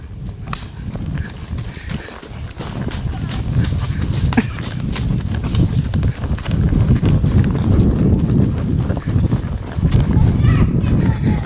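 Tennessee Walking Horses' hooves clip-clop in a steady rhythm along an outdoor trail, with children and adults talking over the hoofbeats throughout.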